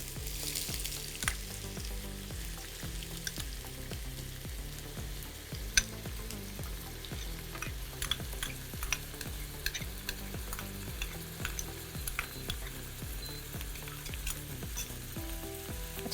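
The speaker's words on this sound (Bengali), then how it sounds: "তেলটা গরম হয়ে গেছে। আচ্ছা, প্রথমে এসে পেঁয়াজ একটু দেবো" Onions frying in hot mustard oil for a fish jhal with tomato, a steady loud sizzle with crackles and occasional stirring scrapes running throughout, no talk.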